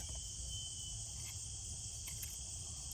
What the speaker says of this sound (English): Morning with the crickets in the sunlight